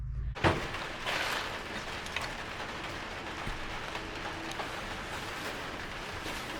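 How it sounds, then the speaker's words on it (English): Steady, dense rain hiss fills the whole stretch, with a sharp knock or thump near the start and a few faint clicks scattered through, heard from a Sprinter van. "It's raining out. It's raining. It's pouring."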